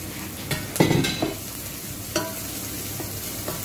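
Shallots sweating in butter in a pan, with a soft steady sizzle broken by a few sharp utensil scrapes and stirring clatters, close by and fairly quiet, no voices.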